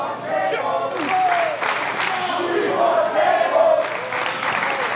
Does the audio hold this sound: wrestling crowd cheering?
yes